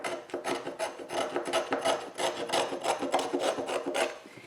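Sandpaper or a rasp works deep scratches out of the wood of an 1800s violin, making a steady run of close, rhythmic scraping strokes that continue throughout with no voices.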